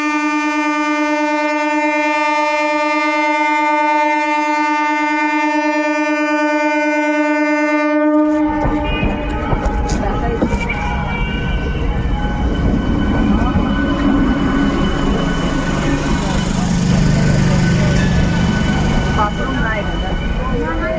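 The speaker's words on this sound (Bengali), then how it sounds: "জয়রামবাটি থেকে বাঁকুড়ার মেমু ট্রেন ফাইনালি চালু হয়েই গেল।" A Jayrambati to Bankura MEMU train sounds its long horn loudly for several seconds, then rumbles and clatters past close by, a steady heavy roar of wheels and wagons filling the rest.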